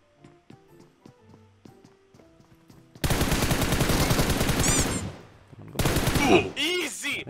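Rapid bursts of automatic gunfire from a mobile battle-royale shooter game, loud and dense for about two seconds, then a pause and a second sustained burst, following a quieter stretch of light in-game clicks and footsteps.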